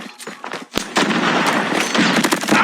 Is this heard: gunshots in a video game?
yes